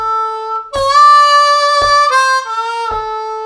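A C harmonica plays a St. James Infirmary Blues lick alone, with a 1 draw and a 2 draw whole-step bend sliding in pitch, interrupted by a few short breathy attacks between phrases.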